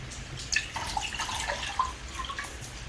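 A cup and a half of water is poured into a pan for pumpkin spice syrup, giving a quiet, steady trickling splash with a few faint drips, and no voices.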